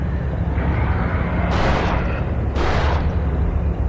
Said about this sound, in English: An active volcano detected nearby.